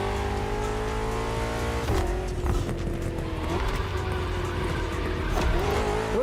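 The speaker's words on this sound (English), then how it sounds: "We're putting 3 BMW MCS to the test over very long distances, and it's your job to drive them one after the other." BMW M CS cars race in the driving game The Crew Motorfest, with a loud, steady engine drone that shifts pitch as gears change, plus faint tire noise throughout.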